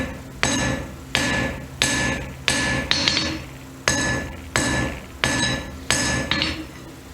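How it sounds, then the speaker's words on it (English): A metal hammer face strikes metal while drawing out stock, giving about ten loud, ringing blows at a steady, even pace, close by and with no voices. "So I prefer using the face of the hammer to keep my drawing nice and clean."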